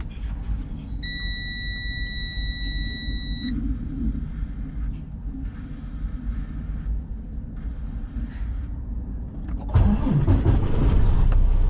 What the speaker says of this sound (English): as I crank up the truck